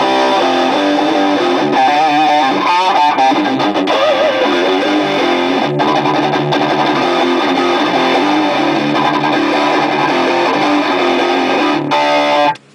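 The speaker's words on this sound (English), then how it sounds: "It's very, very rock and roll, heavy metal sounding amp" A Krank Krankenstein Junior heavy metal guitar amp driven by a loud, heavily distorted electric guitar playing sustained chords and riffs, continuous and close, cutting off abruptly at the end.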